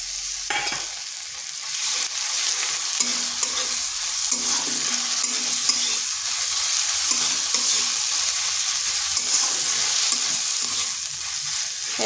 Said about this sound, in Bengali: এটাকে একটু ভাজা ভাজা করে নিচ্ছি যাতে তার কাঁচা গন্ধটা চলে যায়